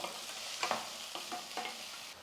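Okra sizzles steadily in hot oil, with a few soft stirring scrapes of a spoon through the pan.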